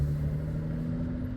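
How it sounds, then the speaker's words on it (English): A BMW F30 with the N55 engine and a Burger Motorsports performance intake drones steadily at low pitch while driving, a continuous close engine and road rumble with no talking. "let's hopefully hear some more of the intake noise."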